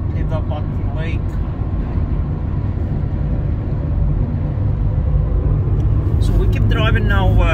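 A car drives southeast out of Reykjavik, Iceland, toward Threngsli, its tyres and engine making a steady, loud cabin rumble that swells slightly near the end, with a voice talking faintly over it.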